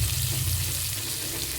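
Onions frying in a pan for garlic chilli rice, a steady low sizzle and hiss running continuously and fairly quietly throughout.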